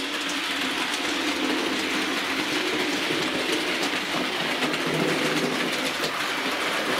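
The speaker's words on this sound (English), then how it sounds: "This is Bibby Line, an old merchant navy class locomotive, old Hornby model, and it runs nice" An old Hornby model Merchant Navy class locomotive, Bibby Line, running on a model railway track loop, with a steady, close rolling rumble and rapid clickety-clack of wheels over rail joints.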